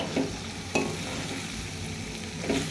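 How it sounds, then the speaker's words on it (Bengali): Goat liver is stir-fried in a pan of spiced oil, with a continuous sizzle and a few distinct spatula knocks and scrapes, close and clear with no talking. "এরপর কলিজাগুলো ভালো করে আমি কষাবো, ভালো করে কষিয়ে নেব।"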